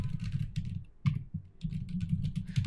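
Rapid clattering keystrokes on a computer keyboard while typing Linux shell commands to change directory on a remote server, a dense run of clicks with a short pause near the middle, close and alone.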